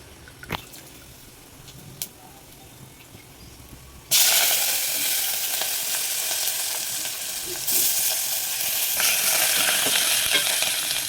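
Curry leaves and coriander drop into hot oil with turmeric and burst into a loud, steady sizzle that holds, then rises again, after a few quiet clinks of a spoon at first.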